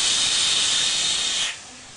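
Oxygen rushes from a cracked-open calibration tank valve in a loud, steady, close hiss that cuts off abruptly after about a second and a half, leaving faint background noise.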